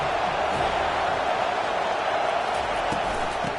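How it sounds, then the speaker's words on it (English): A football stadium crowd at a Miami versus FSU game roars in a dense, continuous wall of cheering, with a commentator's voice over it. "This crowd trying to show them what it's going to be like all day in this house."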